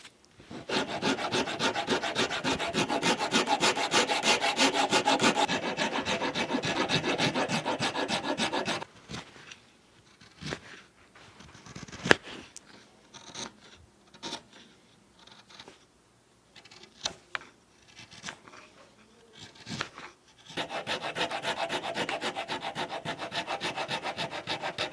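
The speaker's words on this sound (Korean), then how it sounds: "이 바닥면을 다치지 않게 하면서 이 둥근 모양대로 여기를 딱 파주는 거죠" Wood being carved out along a rounded contour where a rocking chair's seat meets its legs, taking care not to cut into the seat's bottom face. Steady rasping and rubbing runs continuously for about nine seconds, breaks into scattered short scrapes, then resumes.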